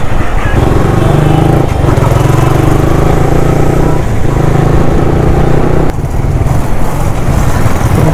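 Motorbike and an Ola electric scooter racing along a road, with a continuous loud engine drone and revving close by throughout, steady with brief dips.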